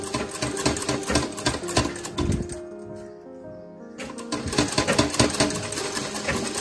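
Sewing machine stitching a 3D fabric face mask, running in dense rapid needle bursts up close, pausing briefly in the middle before resuming at full speed.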